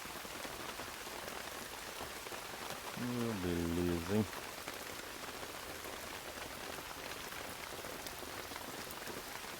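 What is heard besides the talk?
rain falling while planting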